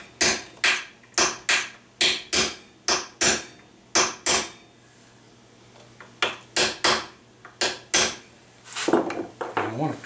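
Sharp metallic hammer blows drive a punch to set a sheet metal gun buttplate, about sixteen crisp strikes in two quick rhythmic runs separated by a brief pause, close and loud.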